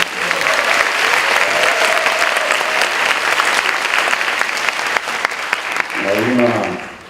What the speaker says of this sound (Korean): 우리 승리하신 총장님 네 분께도 박수 한번 올려드려야 할 것